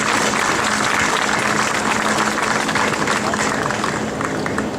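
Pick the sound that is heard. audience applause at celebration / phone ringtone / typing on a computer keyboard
audience applause at celebration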